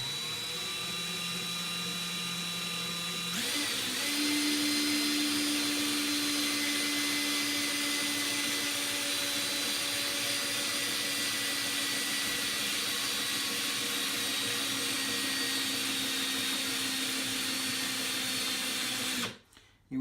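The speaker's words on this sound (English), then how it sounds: "And then start spinning the drill in any direction you prefer." A cordless drill spins steadily to twist two strands of 24 AWG coil wire for a vape coil build, a continuous whining motor hum that starts after a quiet moment and stops abruptly at the end.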